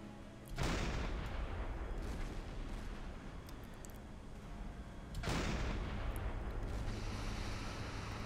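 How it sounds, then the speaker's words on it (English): Two heavy booming blasts from a submarine deck gun in Silent Hunter 5, one near the start and another midway, each followed by a long rumbling roar that sustains loudly like repeated big-gun explosions. "now we got some explosions going on."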